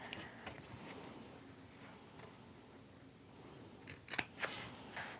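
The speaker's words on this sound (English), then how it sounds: "I'm going to cut the rest of this side, again stopping at the V and then clipping out the corners" Scissors snip through fabric for a handmade wallet, a quiet stretch of faint cutting giving way near the end to a burst of sharp, close clipping strokes, with no voices.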